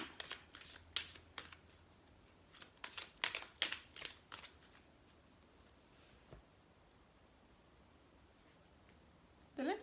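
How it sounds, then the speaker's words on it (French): A Lenormand card deck is shuffled by hand in quick bursts of riffling and rustling, pausing between flurries before a cut, with a faint soft sound near the end. "On va en tirer 6 cartes, mais avant on va faire une coupe"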